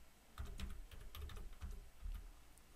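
Computer keyboard keys clatter in quick bursts while a layer name is entered in AutoCAD, close and fairly quiet, with short pauses between runs of keystrokes and no talking.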